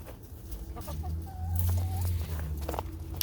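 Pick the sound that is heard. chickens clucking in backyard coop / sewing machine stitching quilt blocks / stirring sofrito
chickens clucking in backyard coop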